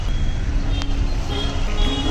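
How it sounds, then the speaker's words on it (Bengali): Jammed road traffic on a Bangalore street, a dense close rumble of engines with a short tonal beep, heard from among the vehicles. "এই রাস্তাটা সবসময় জ্যাম থাকে"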